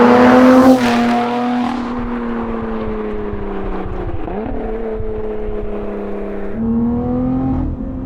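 A Lotus Evora GT410 Sport's engine roars loud and close, surging at first, then settling into a steady, tonal drone with a brief dip before rising again near the end, with no talk.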